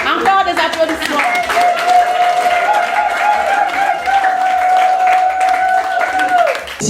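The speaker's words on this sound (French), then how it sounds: "Encore des applaudissements." Guests at an 80th birthday celebration applaud, a steady wash of clapping from a crowd running throughout under a sustained tone from music or a microphone, while someone speaks over it.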